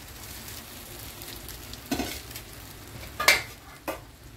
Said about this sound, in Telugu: ఒక 1 minute ఫ్రై చేసుకోవాలి